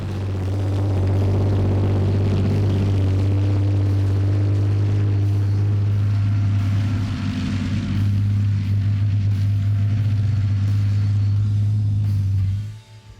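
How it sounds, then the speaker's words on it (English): A tank's deep, heavy V12 engine idles loudly up close, a steady low rumble with a strong droning hum that holds throughout before cutting off abruptly at the end. "Here's what the V12 engine sounds like up close."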